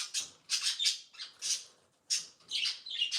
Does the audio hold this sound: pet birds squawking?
yes